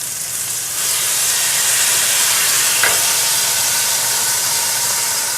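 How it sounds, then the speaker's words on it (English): A blue cheese burger steams and sizzles in a hot grill pan, a loud, even hiss that jumps up after a second and holds steady, with one brief higher crackle partway through and no talking. "as soon as it hits that hot pan, it's going to start steaming"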